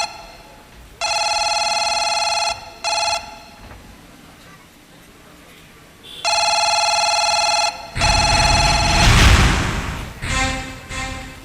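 A telephone rings in two long electronic bursts separated by a pause, followed by a loud rumbling boom and more ringing tones.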